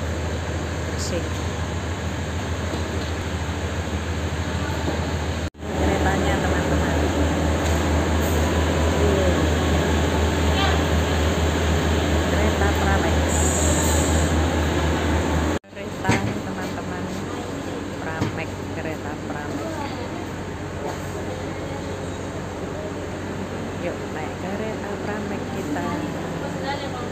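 A passenger train rumbles past close by at Tugu station, Yogyakarta, with a steady, loud roar and rhythmic clatter, then fades into station ambience with voices.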